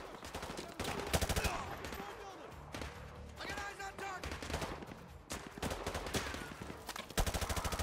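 Rapid bursts of automatic gunfire from an enemy in the Modern Warfare 2 campaign, repeated volleys and single cracks, fairly faint with a voice talking in between.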